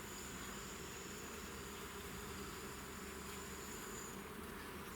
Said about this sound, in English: And you can hear the bee buzzing.